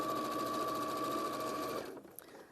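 A sewing machine stitches around a zip, a fast steady whirring hum with rapid needle clatter that runs evenly, then stops abruptly, leaving a few soft handling clicks.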